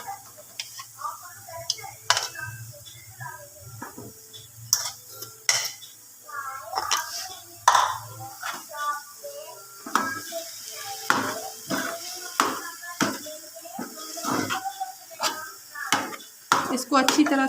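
A spoon works mashed potato samosa filling around a bowl, giving repeated close clinks and scrapes against the bowl in irregular bursts over quieter stretches.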